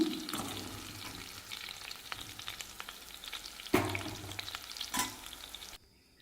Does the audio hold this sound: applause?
no